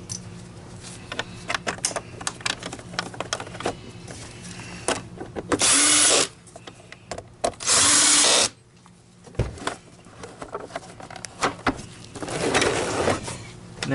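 Power screwdriver driving screws into the cover of a Miele Dynamic U1 S7 upright vacuum: two short, loud whirring bursts, each lasting about a second, with tool handling, rattling and light clicks between them at close range.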